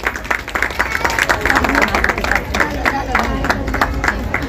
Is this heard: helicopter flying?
no